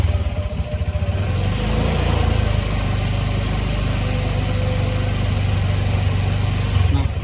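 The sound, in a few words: motorcycle engine revved with throttle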